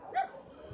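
A dog at an animal shelter gives one short bark or yip, fairly near and clear, followed by quiet background.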